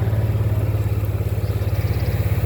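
A tractor engine cutting first-cut hay runs loud and close, a steady low chugging throb with a regular pulsing rhythm and no voices.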